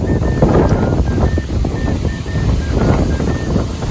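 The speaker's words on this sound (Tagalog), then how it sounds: "Yung tubig is nag-wave dahil sa hangin and bagsak ng tubig." Steady roaring wash of a waterfall mixed with gusting wind buffeting the microphone, a constant broadband rumble with no pauses.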